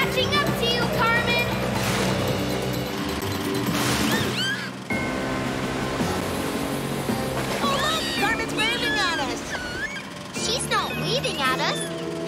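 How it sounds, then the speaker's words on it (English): A fast airboat speeds across open water in a children's cartoon adventure, its engine droning steadily under lively music and excited voices that talk throughout. "this airboat's really fast, too"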